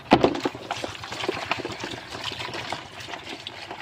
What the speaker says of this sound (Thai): อันดับแรก เฮาก็เอา ปูมาล้างก่อนนะจ๊ะ